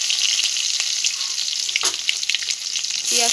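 Whole cumin, chopped garlic and onion hit hot oil for a lentil dal tempering, giving a loud, close, continuous crackling sizzle with one sharp spatter and a small clink at the end.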